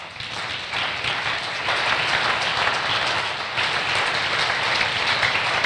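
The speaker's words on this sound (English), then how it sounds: "I wanted to give Jesus a very good clap" A church congregation applauds for Jesus during a pastor's sermon, steady dense clapping from many hands that swells slightly and carries on throughout, with no talk over it.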